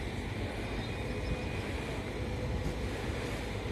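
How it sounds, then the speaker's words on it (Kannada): A distant train approaches as a faint, steady low rumble with a broad, airy wash over it and no talking. "ಅಲ್ಲಿ ಒಂದು ಟ್ರೈನ್ ಬರ್ತಾ ಇದೆ."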